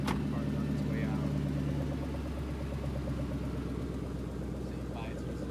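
A Ford Cobra's engine idles with a steady low rumble, close and continuous, as the car pulls away, with voices talking over it.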